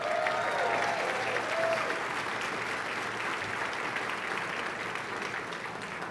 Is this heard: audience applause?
yes